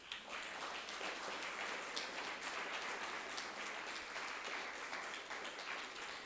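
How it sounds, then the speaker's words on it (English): An audience at a candidate forum gives a sustained round of applause, a dense, even rain-like patter of many hands heard from a moderate distance, without speech. "can we have the applause for our candidates?"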